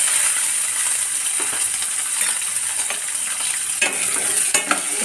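Garlic sizzles steadily in hot oil for vatha kulambu, a spoon stirring and scraping the pan with occasional metallic clinks, close and continuous.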